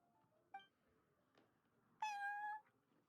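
A cat in the game Genshin Impact gives a couple of short faint chirps, then a clear, drawn-out meow of about half a second, close and alone with no talking.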